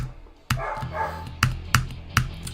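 A dog barks four or five times in sharp, close bursts, with short irregular gaps, over a quiet indoor background.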